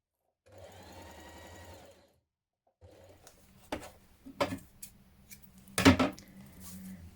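A domestic sewing machine stitches a dart in jumpsuit fabric with a steady whirring run, then stops and follows with several sharp clicks and knocks of handling the machine and thread.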